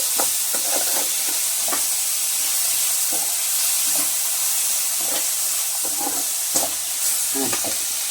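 Bottle gourd buttermilk curry (pulusu) bubbling in a pot, a steady sizzling hiss with scattered soft pops and stirring clicks, close and continuous with no talk.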